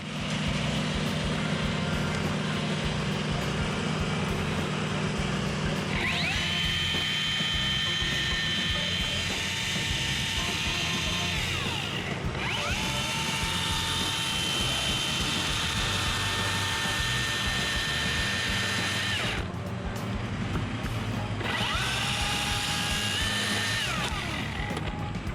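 A saw cuts a wedge into the top of a tree limb to form a hinge. Its steady, loud engine-like whine runs throughout, with the pitch shifting as the cut progresses and brief dips where it eases off.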